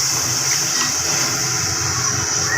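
A glass of water is poured into a cooking pot of Deghi-style palak gosht (spinach and mutton curry), a steady splashing gush that runs close and loud throughout, with no talk.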